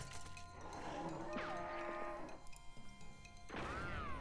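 In the game West of Loathing, an ungulith stone cow creature lets out drawn-out, warbling moos with cracking thuds between them, fairly quiet and with no talk over it.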